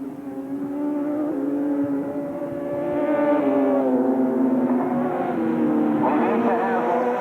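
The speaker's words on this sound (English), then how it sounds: "for the 750cc motorcycle." 750cc racing motorcycle engines whine at high revs during a qualifying session, rising and falling as they pass, with a loud continuous drone throughout.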